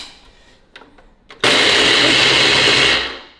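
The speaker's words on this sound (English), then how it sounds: "No wonder our blender doesn't work well anymore" A worn household blender whirs loudly, blending a protein shake in a kitchen. It starts abruptly after brief talk and faint clatter, holds a steady harsh roar for about one and a half seconds, then begins to wind down.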